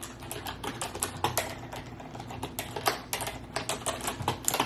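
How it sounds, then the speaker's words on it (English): Typing on a computer keyboard, close and rapid with irregular clusters of sharp key clicks and occasional heavier strikes, with no talking over it. "I'm typing this up and I have like a terrible setup"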